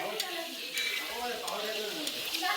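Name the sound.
stirring spices in a frying pan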